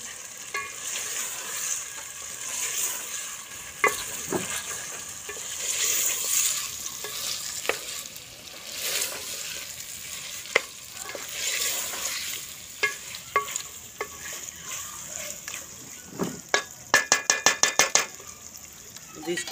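Potatoes frying in a pan, a steady sizzle with repeated scraping and clinking of a spoon stirring through them, close by, ending in a quick run of rapid taps against the pan.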